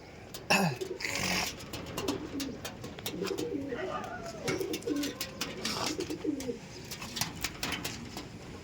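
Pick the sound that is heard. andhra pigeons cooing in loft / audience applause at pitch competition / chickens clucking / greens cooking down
andhra pigeons cooing in loft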